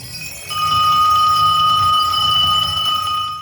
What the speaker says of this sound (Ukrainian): Лунає довгоочікуваний перший дзвоник